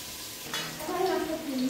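Potatoes fried in hot oil until reddish-brown give off a soft, close sizzle, with a brief scrape of stirring and a faint voice.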